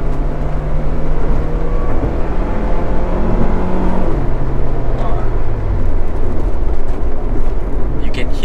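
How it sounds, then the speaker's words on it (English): Engine of a Honda Integra DC5 with a low, bassy exhaust, revving steadily and loud throughout, its pitch holding and then stepping as the revs climb, with no talk over it. "You can hear the VTEC open up"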